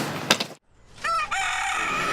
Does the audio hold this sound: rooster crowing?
yes